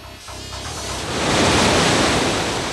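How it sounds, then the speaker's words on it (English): River Severn water pours over a weir, a built wall across the river, making a steady, loud roaring rush of broadband noise that swells and holds strong. "This isn't a natural waterfall, but a weir, a wall built across the river so the water pours over the top."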